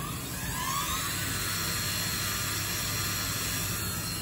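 A CNC router spindle warming up at 6,000 RPM gives a steady, unbroken high whine over a broadband mechanical hiss, holding an even level throughout.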